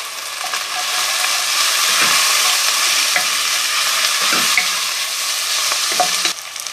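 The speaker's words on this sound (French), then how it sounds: "Allez, maintenant, on va les laisser roussir." Food browning in olive oil in a pan, a loud steady sizzle with occasional stirring clicks and scrapes, no voices.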